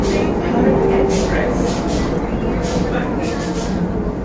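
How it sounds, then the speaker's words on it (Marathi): Steady low rumble and rattle of a moving train heard from inside a carriage, with faint voices underneath. "बरोबर सात अकराची ट्रेन मिळाली आम्हाला ट्रेनमध्ये बसलोय आम्ही"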